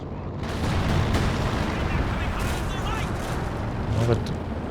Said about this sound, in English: Bombing strikes.